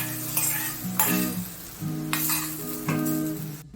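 Fenugreek seeds and curry leaves crackle and sizzle in hot oil during a tempering for a sattvic Konkani dish, a steady frying hiss joined by melodic tonal sounds that swell and shift over it.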